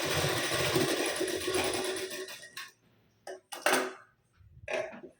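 A sewing machine double-stitches the V-neckline of a blouse, running in a fast, close mechanical whir for a few seconds, then pausing before short bursts of stitching resume.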